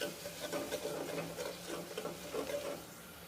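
Spices for aloo matar are stirred and sautéed in a pan, giving faint, soft scraping and quiet sizzling in short repeated strokes with no talking.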